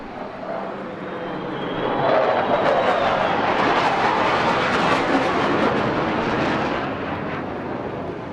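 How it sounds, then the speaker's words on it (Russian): A B-2 bomber passes overhead with a broad, roaring jet rumble that swells to a loud peak midway and then slowly fades away, heard alone without talk. "В момент прохода по красной дорожке над гостем пролетел бомбардировщик Б-2."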